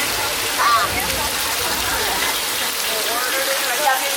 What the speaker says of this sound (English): we've got our beautiful sprinklers blowing out rain up in the air